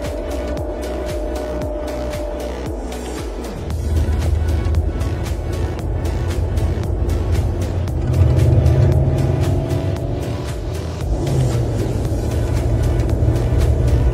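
A Mercedes-AMG CLE 53 with a six-cylinder mild hybrid engine driving, its steady, loud engine drone rising in pitch as it accelerates, shifting gears, then pulling strongly again under constant road and wind noise.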